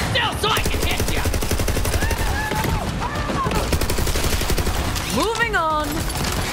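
Rapid gunfire in the video game Borderlands 3 runs steadily through a busy firefight, mixed with game music, effects and voices, with a rising sweep of sound near the end.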